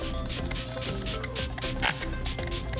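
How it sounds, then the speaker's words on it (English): Smashbox Photo Finish Primer Water setting spray misted from a pump bottle in a few quick, close bursts of soft hiss, alone with no talking. "you can use as a setting spray or you can use it to refresh your makeup"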